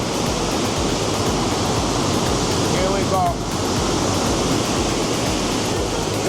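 Ocean waves wash up on a shore in a constant loud roar of surf, broadband and steady, with a faint voice briefly audible underneath midway.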